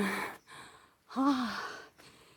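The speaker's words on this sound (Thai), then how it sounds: "เริ่มเหนื่อยแล้ว เริ่มหอบแล้ว" Heavy, breathy panting from a hiker climbing Phu Luang mountain, two close ragged breath bursts with a voiced edge, separated by a short pause.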